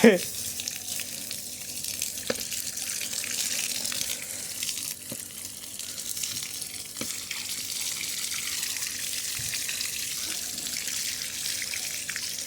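Water hits hot steel rods as they are cooled after straightening, producing a steady loud hiss and sizzle like running water, with a few sharp metallic knocks and steam rising throughout.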